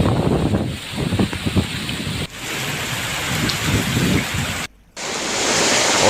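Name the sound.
strong storm with wind and hail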